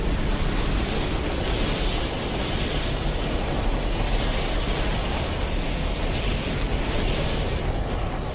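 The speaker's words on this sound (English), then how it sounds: "A tsunami wave races across the Atlantic at 500 miles per hour, as fast as a jumbo jet." A tsunami wave racing across the Atlantic Ocean gives a steady, rushing surf-and-wind roar, broad and unbroken, loud throughout with gentle swells in intensity.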